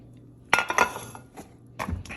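Utensil clinks and scraping against a mixing bowl as melted butter is stirred into banana bread batter, a few close knocks in quick succession with short pauses, no talking.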